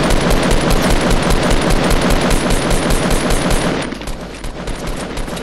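Rapid automatic gunfire from a video game shootout, loud and dense with continuous bursts that thin out into sparser shots near the end; no talk.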